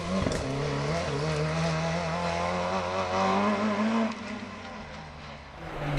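Vauxhall Corsa rally car driven hard on a Manx National Rally special stage, engine note climbing through revs up close, then easing off and fading slightly toward the end.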